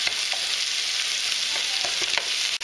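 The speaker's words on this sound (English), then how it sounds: "Once the pork and the ham has a little brown, we'll add the onions." Pork, ham and onions fry in a pan with a steady, dense sizzle and occasional faint stirring scrapes, close up, with no talking.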